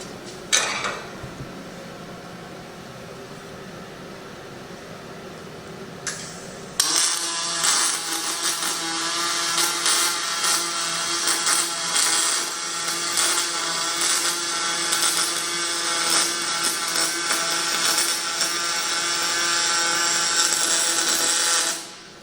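Aluminum being MIG welded with a Fronius Fortis 270 push torch: after a few quiet seconds and a click, a loud steady crackling buzz of the arc runs continuously for about fifteen seconds, then cuts off abruptly.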